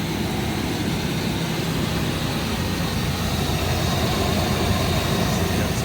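Ford Explorer engine running steadily after being jump-started with a jump box at a police vehicle auction, a continuous low rumbling drone with no breaks, fairly loud and close.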